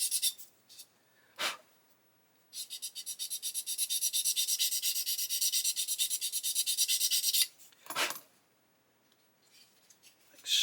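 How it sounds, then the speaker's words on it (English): Sandpaper rubbing on a plastic part of an Airfix 1/24 Bf109 G-5/G-6 model kit, a steady close scratchy rasp lasting several seconds between brief handling noises. "So I'm going to sand this down."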